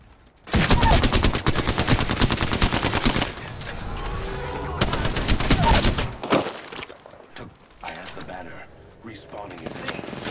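Rapid automatic gunfire in a first-person shooter video game, loud and close, rattling in long bursts for several seconds, stopping briefly, then resuming before trailing off into scattered shots and game noise.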